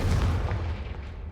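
A Confringo explosion spell in Hogwarts Legacy lands as a deep booming burst that rumbles heavily at the start and fades over about a second, with no talking.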